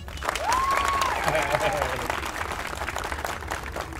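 Audience applause at a clown show in Tijuana, a dense sustained clapping that fills the whole stretch, with a performer's voice and a whistle-like tone rising over it early on.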